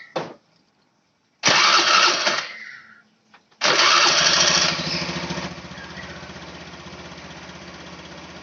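An automatic scooter engine with its CVT case cover still off cranks into life after a quiet pause, catches with a short burst, then restarts and settles into a steady, close idle.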